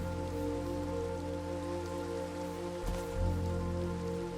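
Rain falls in a cozy clay-farm building game, a steady soft hiss blended under sustained, droning background music, with a brief muffled thump partway through.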